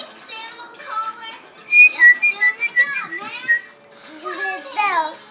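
A child whistles for birds, with a few wavering, breathy whistled notes in short bursts, mixed with soft childish babble and voices nearby.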